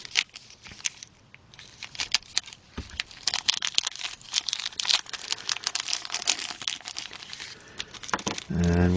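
A plastic bag crinkles and rustles as parts for a DeAgostini Hummer H1 scale model kit are unpacked, giving close, irregular crackling bursts that end with a brief spoken voice.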